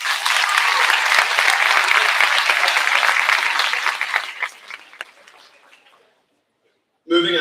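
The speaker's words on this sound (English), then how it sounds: "One more round of applause for them." An audience at a middle school award ceremony applauds award recipients, loud clapping for about four seconds that thins and fades to silence, then a voice starts speaking.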